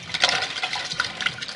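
Soaked amla, reetha and shikakai tipped into a pot of water, a quick cluster of close splashes and plops with small watery knocks, brief and fairly loud, no voices.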